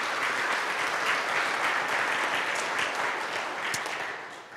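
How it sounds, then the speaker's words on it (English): Applause from a church congregation during a Sunday worship service, a steady wash of many hands clapping together that holds for several seconds and then begins to taper off at the end. "I think that deserves a round of applause"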